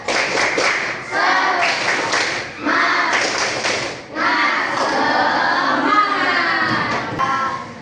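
Children in a classroom do a rhythmic clapping chant together, loud and close, in clustered bursts of claps and thumps mixed with their voices chanting along.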